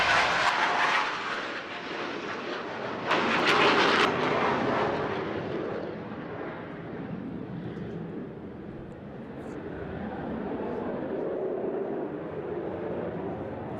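A Spitfire and a modern jet make a flypast at a seaside airshow: a broad, roaring engine wash swells loudest near the start, then fades into a sustained distant rumble with no talking.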